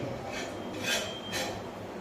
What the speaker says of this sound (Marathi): आता ही भांडी घासायचं